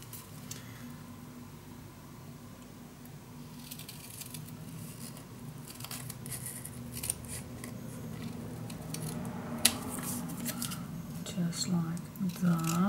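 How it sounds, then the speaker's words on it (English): Scissors snipping through paper mounted on chipboard for a scrapbook mini album, soft close cuts in an irregular run under quiet background, growing busier toward the end. "I'm gonna attach this to the chipboard. And then I'm gonna cut it out."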